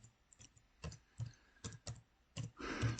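Keyboard keys are tapped in quick irregular bursts of clicks while text is typed into a spreadsheet cell, close and distinct.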